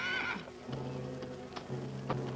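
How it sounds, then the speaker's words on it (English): A lame horse gives a short, faint whinny at the start. Soft clip-clop hoof sounds and a low murmur follow in a quiet outdoor scene. "He was giving his lame horse a bad time."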